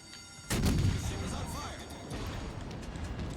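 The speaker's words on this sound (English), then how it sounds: "So this Vanguard's actually shooting HE." Battleship guns firing high-explosive shells in the naval game World of Warships Legends, one heavy booming salvo with a rumbling tail, fairly loud, with game ambience and faint talk underneath.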